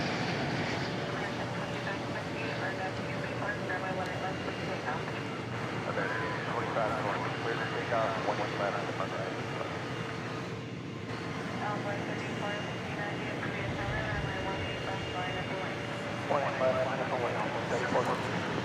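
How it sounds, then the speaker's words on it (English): An American Airlines Airbus A321 jetliner arriving from Los Angeles at DFW Airport at night makes a sustained, moderately loud engine roar with a brief dip partway through, while people talk over it. "Got an American Airlines jetliner arriving from Los Angeles here"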